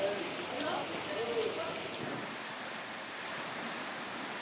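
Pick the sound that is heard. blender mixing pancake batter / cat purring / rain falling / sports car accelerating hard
rain falling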